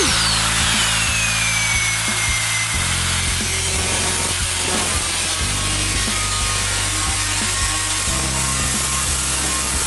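A Porter Cable cutoff wheel trims metal sheet for a homemade skatepark ramp. It makes a loud, steady abrasive grinding with a high whine and a low droning hum throughout, with no talking.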